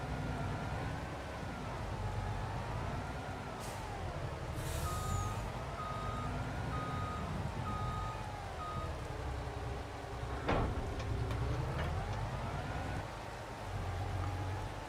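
In Farming Simulator 22, a truck with a trailer reverses with a steady run of evenly spaced beeps over a loud, wavering engine drone, with a hiss of air brakes partway through.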